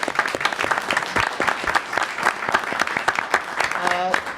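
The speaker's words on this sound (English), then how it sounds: "One more round of applause for all of our." Audience applause at a school committee meeting, a dense clatter of many hands clapping at steady loudness for several seconds, with a short voice rising near the end.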